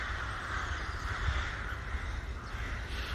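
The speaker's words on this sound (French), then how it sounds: "les volatiles qui font un bruit terrible" Crows cawing noisily outdoors under a light breeze, a continuous overlapping chorus of harsh calls over low wind rumble, with no talking.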